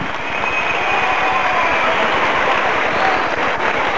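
A studio audience applauds for a grandmother on a 1988 Córdoba television variety show, a dense, steady wash of clapping that stays loud and continuous with a faint hum beneath.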